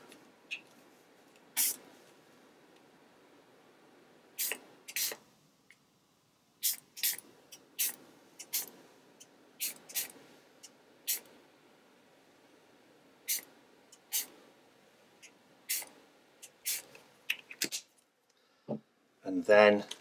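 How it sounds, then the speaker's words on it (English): Spray bottle spritzing water onto yellow ochre paint on a mixed media art journal page, heard as many short, sharp hissing bursts spaced irregularly, some in quick doubles, fairly close with quiet pauses between. "give that yellow ochre a spritz"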